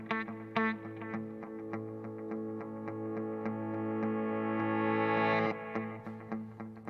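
Hotone Ampero looper playing back a layered guitar overdub, sustained chords with distortion and echo swelling steadily over a repeating loop with rhythmic plucked attacks, alone without voices.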